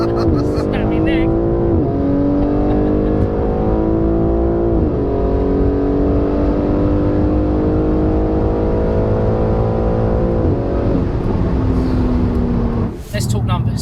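A 900bhp BMW G80 M3 accelerating hard from inside the cabin, a loud sustained engine roar rising through the gears with clear pitch drops at each shift, ending in a short burst of noise.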